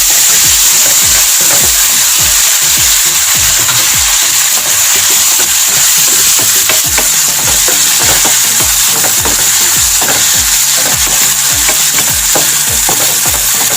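Loud continuous sizzling fills a hot pan of Andhra fish curry base as tomatoes are added and stirred, with rapid repeated spatula scrapes and a dense frying hiss throughout, close up with no talking.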